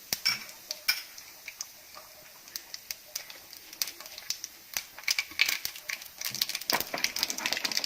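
Mustard seeds and cumin crackle and pop in hot oil for an Andhra-style cauliflower pickle, a close run of sharp scattered ticks that thickens into denser spitting toward the end, heard alone.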